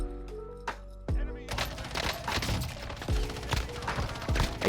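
Gunfire in the shooter game Warzone, with several sharp reports followed by bursts of rapid automatic fire, loud and dense and layered under in-game effects.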